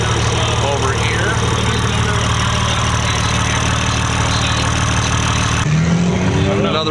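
A yellow Toyota Supra idles in the pits at a TX2K drag racing event while it warms up. The engine holds a steady, close droning rumble under people talking, and its tone shifts briefly near the end.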